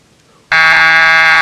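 A quiz buzzer at a university quiz festival sounds suddenly after a short silence and holds as a loud, steady, harsh electronic tone through to the end.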